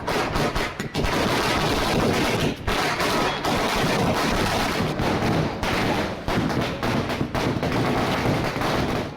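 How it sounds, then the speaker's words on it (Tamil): Firecrackers burst at a DMK party celebration marking the women's entitlement payment, a dense, loud, continuous crackling barrage with brief gaps, close by and dominating throughout without talk. "இந்த நிகழ்வை பட்டாசு வெடித்தும் மேளதாளத்துடனும் திமுகவினர் கொண்டாடினர்."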